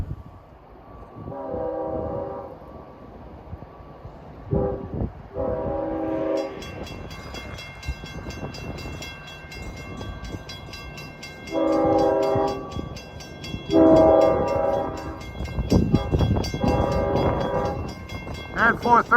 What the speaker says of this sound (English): Six-car train making a mini blizzard of its own.